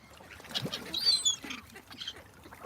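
Faint, scattered quacks from several ducks at a distance, irregular and overlapping, with soft outdoor background noise.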